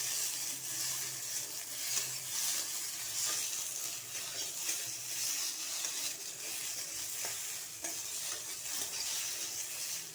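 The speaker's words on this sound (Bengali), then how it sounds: "আলুটা ভাজা হোক।" Potatoes frying in hot oil in a home kitchen pan, a steady, dense sizzle that holds evenly throughout with faint clinks of stirring.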